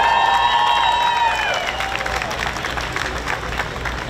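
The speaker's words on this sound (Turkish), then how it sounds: "Onlara bir alkış rica ediyorum." A crowd claps and cheers for dancers at an outdoor Turkish Day parade concert, swelling applause that takes over as a held high vocal note fades, steady and lively to the end.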